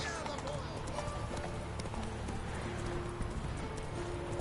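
In a PS4 video game, the horse Roach gallops with steady clip-clopping hoofbeats under game music and speech, with an occasional neigh.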